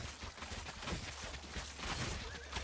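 Rapid crackling gunfire from a defending unit in the strategy game Thronefall, a dense, continuous rattle of shots at moderate volume with no talk over it.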